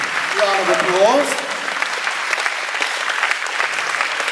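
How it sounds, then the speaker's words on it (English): A karate group at a charity kickathon applauds itself after a set of kicks. The clapping is close, loud and sustained, and a voice speaks briefly over its start. "Give yourselves a massive round of applause."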